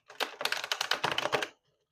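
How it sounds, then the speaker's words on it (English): Quick riffle shuffle of a tarot card deck, a rapid flurry of crisp, close card snaps lasting just over a second before falling silent. "Do a quick shuffle."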